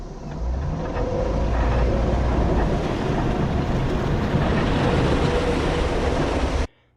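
Vehicles splash through a creek water crossing at the entry to Cave Fork Road on the Daniel Boone Backcountry Byway, a loud, continuous rushing wash of water and engine noise that stops abruptly near the end.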